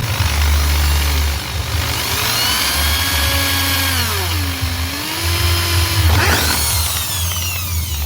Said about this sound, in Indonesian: Modifikasinya simple banget, kita bisa bolongin dulu ya bagian pipanya.